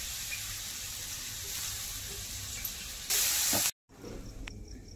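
Onion paste, made from two small onions, hitting hot oil in a pan gives a steady, close hiss, then a brief louder burst of sizzle, a short silence, and a quieter sizzle.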